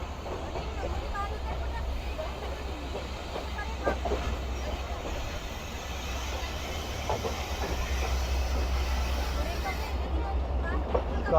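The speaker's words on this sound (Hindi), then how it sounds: "आहिस्ता आहिस्ता निकल रही है ट्रेन 6326 के साथ।" Train 6326, the Rehman Baba Express bound for Karachi, pulls slowly out of a station in winter with a steady low rumble and faint rail clatter, continuous and fairly loud, with crowd murmur in the background.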